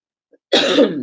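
A single short cough bursts out close by after a brief silence, harsh and breathy.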